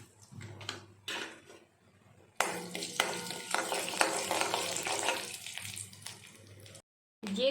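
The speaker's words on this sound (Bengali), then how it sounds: "তেলের উপর 5 ফোড়ন দিয়ে দিয়েছি আর অল্প পরিমাণ চিনি দিয়ে দিচ্ছি তেলের উপর।" Panch phoron spices and a little sugar hitting hot oil in a kadai: quiet spatters and scrapes at first, then a loud, dense sizzle and crackle with stirring, cutting off abruptly near the end.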